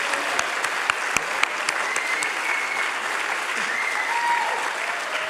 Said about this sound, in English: Please join me in a round of applause for these committee members.